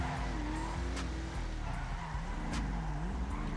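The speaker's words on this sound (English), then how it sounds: "Drifting with a Rolls-Royce." A Rolls-Royce in GTA 5 drifting, its engine droning and rising in pitch while tires squeal in wavering smears, with sharp clicks over a continuous loud car noise.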